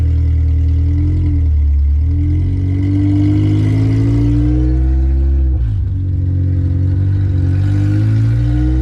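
K-swapped Honda Civic project car revving under way through the gears, its engine droning loud and close with rising and falling pitch, a brief dip near the middle as a shift happens, no speech over it.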